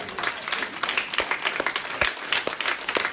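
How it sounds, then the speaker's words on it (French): A church congregation in Guadeloupe applauds during a prosperity-themed worship service, with steady, dense clapping filling the room and a few sharper claps standing out, loud and close throughout. "Acclamons Jésus."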